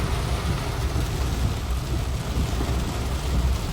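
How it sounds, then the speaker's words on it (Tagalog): Heavy rain pours down in a loud, steady roar with a deep low rumble underneath, constant throughout with no voices. "Grabe, ang lakas ng ulan."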